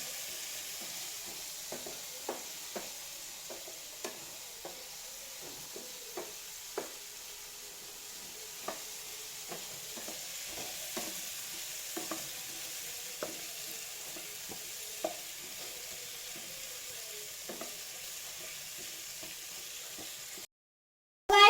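Potatoes fry in a pan with a soft steady sizzle while a spoon stirs them, giving light scattered scrapes and taps throughout, fairly quiet and with no voices.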